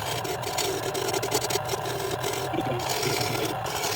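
A belt-driven wood lathe running on low speed while turning wood, a steady low motor hum with scraping, rasping bursts from the tool against the spinning workpiece, near and continuous.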